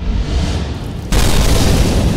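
An animated cartoon explosion sounds as one loud, deep boom that bursts in suddenly and then roars on as a heavy, sustained rumble over low background noise.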